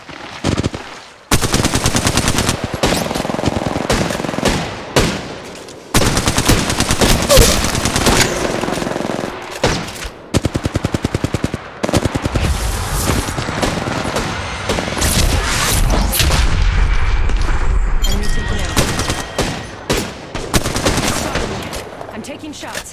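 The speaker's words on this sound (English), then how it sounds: "taking shots" Rapid automatic gunfire from Apex Legends Mobile comes in loud, dense bursts with brief pauses and explosive booms, firing nearly continuously and close up.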